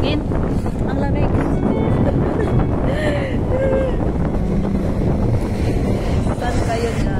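Strong wind gusts buffet the microphone in Namsan Park, Seoul, a loud continuous roar and rumble with people talking underneath.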